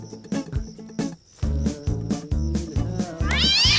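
A cat meows repeatedly in a steady rhythm, each loud, close call rising and falling in pitch, ending in a longer drawn-out wail.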